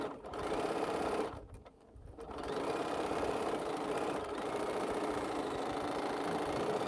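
A home sewing machine stitches a quilt with a steady, loud mechanical whir, halts briefly around the second second, then runs continuously again.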